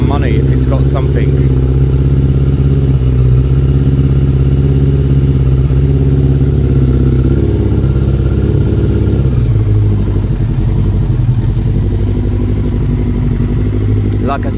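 Yamaha Thunderace YZF1000 1000cc motorcycle engine idling while warming up, a steady loud close rumble that drops slightly in pitch partway through, with brief talk near the start.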